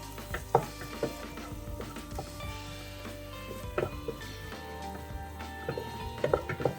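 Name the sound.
sautéing ground spice paste for mutton chops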